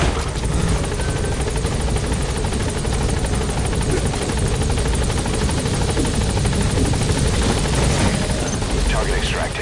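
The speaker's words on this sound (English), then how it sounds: "We'll just have to do it by chopper." A helicopter arrives for extraction in the Metal Gear video game, its loud, steady rotor chop and engine whine filling the scene without letup from start to finish.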